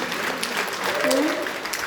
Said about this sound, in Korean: 그렇게 영광의 박수를 올려드립니다